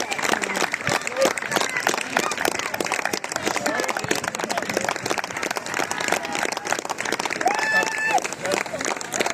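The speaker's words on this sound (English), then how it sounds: "applause for the winners, party too." Sustained crowd applause and cheering for a winning under-14 girls' football team at a trophy presentation, steady and loud throughout with voices mixed in.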